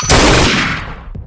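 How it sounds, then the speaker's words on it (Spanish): A single loud, sharp gunshot bursts out and rings with a long fading tail, followed by a faint low thump. "Un disparo fatal, al hombro derecho de ese maldito"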